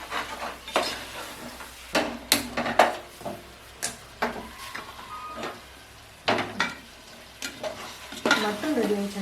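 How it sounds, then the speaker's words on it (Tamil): Spices stirred and fried in hot oil while tempering mutton biryani masala, with repeated sharp scrapes and clinks of a spoon against the pan over a steady close sizzle. "இந்த மாதிரி நம்ம தாளிக்கிறோங்க"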